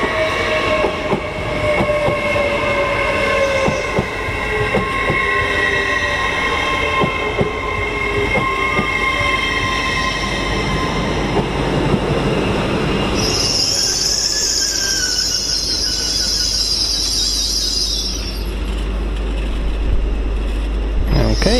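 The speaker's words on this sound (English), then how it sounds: "801 109 and 801 107 are now departing for Leeds" Two coupled Class 801 trains, units 801 109 and 801 107, departing for Leeds on the East Coast Main Line, a loud rolling rumble with wheel clatter and a high squeal rising midway as they pull away.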